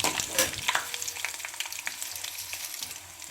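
Mustard seeds dropped into hot oil in a pan for a dal tempering, crackling and sizzling up close with small pops over a steady frying hiss, no voices.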